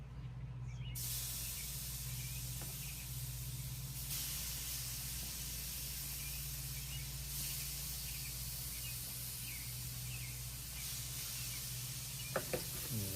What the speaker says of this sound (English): And then the sizzle.